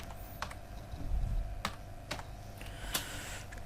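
Sparse keystrokes on a computer keyboard, a handful of separate clicks spaced irregularly over a low steady background hum.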